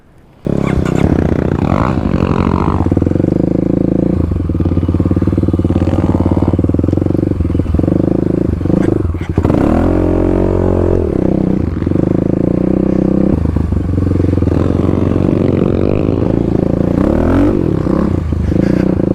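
A Kawasaki KLX351 dirt bike on Tusk Dsport tires rides off-road through mud, its single-cylinder engine droning loudly and steadily with throttle swells, rattles and scraping throughout.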